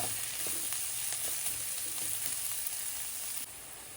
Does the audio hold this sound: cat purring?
no